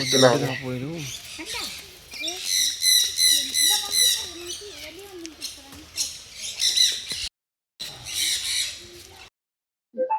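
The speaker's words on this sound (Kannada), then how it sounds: "ಈ ಪಕ್ಷಿಗಳ ಸೌಂಡ್ ಎಷ್ಟು ಇರಿಟೇಟಿಂಗ್ ಆಗಿದೆ ಅಂದರೆ" Many birds at Bannerghatta zoo squawk and chatter noisily and continuously, a loud overlapping chorus with short pauses near the end.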